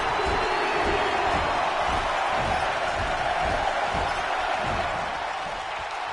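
A wrestling arena crowd roars and cheers in a dense, continuous wash at close range, with faint thumps and scattered shouts beneath, fading slightly toward the end.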